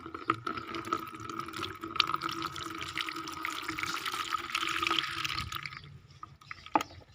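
Homemade organic pesticide liquid is strained through a cloth, producing a steady trickling and splashing of liquid with occasional drips, close and fairly quiet.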